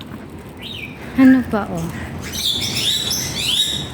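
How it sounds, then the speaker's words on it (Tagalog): Bali mynas calling in a zoo enclosure of a botanical and zoological garden in Hong Kong, with several sharp chirps and rising whistled calls, fairly close, mixed with a person talking. "Yun, may mga ibon, no? Ito yan is Bali Mayna."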